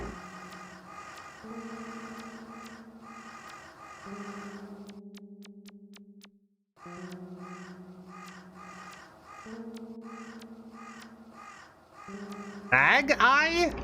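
A bird caws in the video game Yume 2kki over looping chiptune-style background music, with a harsh squawk bursting out near the end.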